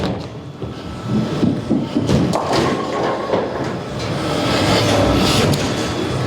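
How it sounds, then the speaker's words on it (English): A bowling ball rolls straight down a ten-pin lane with a steady, loud rumbling thump that builds slightly toward the end of the roll. "this ball will roll over the fingers and the thumb, and you'll hear it thumping down the lane"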